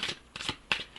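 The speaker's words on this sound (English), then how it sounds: "I have got to do a better job shuffling." Tarot cards being shuffled by hand: three quick riffling bursts, close and soft, with no talk.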